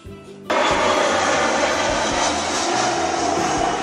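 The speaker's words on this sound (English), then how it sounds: "Bye bye, airplane." Broadband roar of an airplane passing overhead, starting abruptly and then holding loud and steady throughout.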